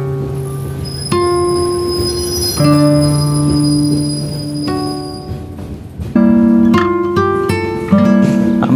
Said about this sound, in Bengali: ট্রেন কমলাপুর স্টেশনে ঢুকতেছে